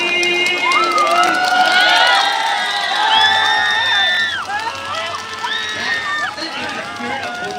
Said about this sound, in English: Can we have a cheer of encouragement to all our volunteers, please?